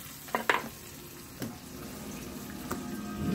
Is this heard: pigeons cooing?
no